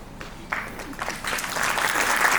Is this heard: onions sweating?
no